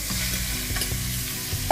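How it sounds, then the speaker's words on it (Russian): Pork pieces sizzle loudly in hot oil while a utensil stirs them, scraping strokes repeating over a steady crackling fry, close and without any voice. "Сначала мы его хорошенько обжарим. Вот так вот будем помешивать, чтобы оно поджарилось равномерно со всех сторон."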